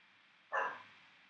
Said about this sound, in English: that's just my dog. It's not you.